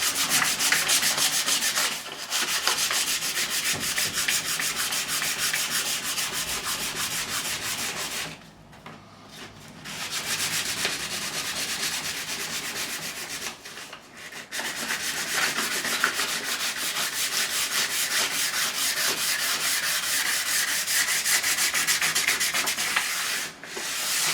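Wood is sanded by hand with 120 grit sandpaper in long, steady abrasive strokes, close and continuous, with a few brief pauses between passes.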